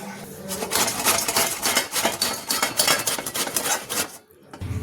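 Blanched cauliflower rubbed against a metal carrot grater, a steady, busy rasping scrape repeating in quick strokes up close, pausing briefly near the end.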